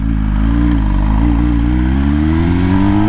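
A 2021 MV Agusta Rush motorcycle with a BT Moto ECU flash tune pulling away from a stop, its engine drone loud and close, rising steadily in pitch as it accelerates.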